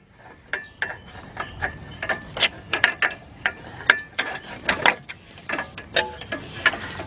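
A bolt being tightened on a BMW 745i starter during replacement, a series of irregular ratchet clicks and metallic ticks in short bursts, close up with no speech.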